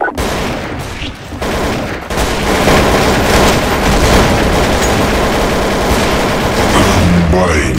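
Sustained rapid gunfire in Counter-Strike: Source, loud overlapping shots and booms running almost continuously, with a voice speaking over the din.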